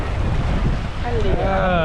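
Cool wind buffets the microphone steadily at the Red Bridge in Samut Sakhon beside high water, a loud continuous rumble with a voice rising briefly near the end.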